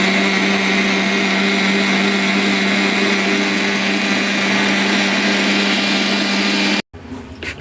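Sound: mixer grinder churning Nandini milk to make butter

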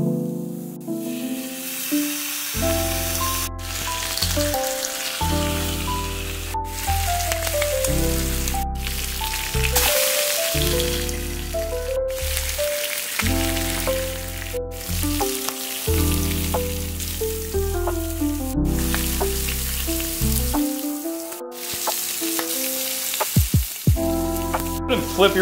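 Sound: bacon frying in a pan

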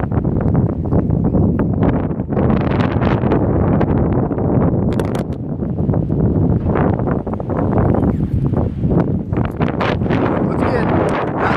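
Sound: strong wind

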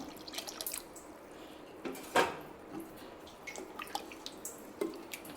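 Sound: pouring tamarind juice into mashed lentils

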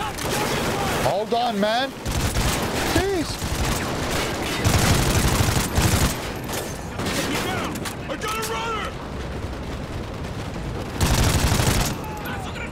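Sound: gunfire in video game Call of Duty Ghosts

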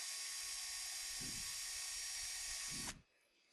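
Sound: drilling holes in marquetry work

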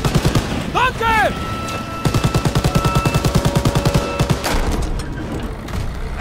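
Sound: gunfire in the video game Call of Duty WW2

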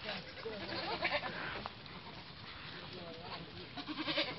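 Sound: goat bleating on a small farm

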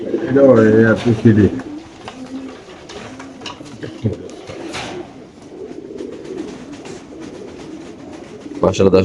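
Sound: pigeons cooing in cages at a pigeon farm

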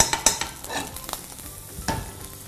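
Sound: pastırma frying with butter in a pan

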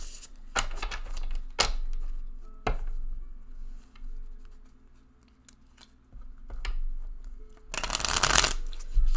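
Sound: shuffling cards for a psychic reading

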